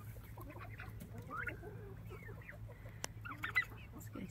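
Frizzle chickens cluck softly and chatter in a sturdy bear-proof backyard coop, scattered quiet calls overlapping at close range with one sharper louder squawk near the end, over a low steady background hum.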